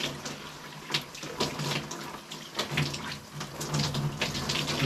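Water runs from a shower in a steady, close spray that keeps going for several seconds, with no voices over it.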